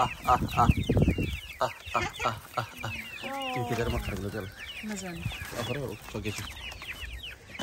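Chicks in a pen, stated to be ducklings, give rapid high peeping and clucking calls, fairly close and busy throughout, with other fowl sounds mixed in and a person speaking at times.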